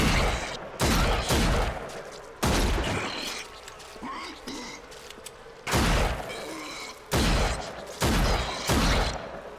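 Bursts of video game gunfire in an abandoned dead-city setting, several loud volleys of rapid shots at roughly even intervals with quieter rustling and movement between them.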